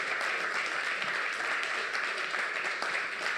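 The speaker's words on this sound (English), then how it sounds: "give yourselves a round of applause for that" Steady applause fills a seminar hall in Manchester, a dense even wash of many hands clapping at moderate distance, with no break across the stretch.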